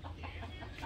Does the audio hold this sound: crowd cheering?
no